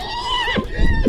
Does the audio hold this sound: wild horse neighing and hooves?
yes